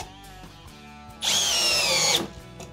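A Milwaukee M12 Fuel drill at speed 2 on a full battery drives a 6 mm screw into wood: one loud, steady whirring burst of about a second, rising sharply and stopping, close up amid quiet.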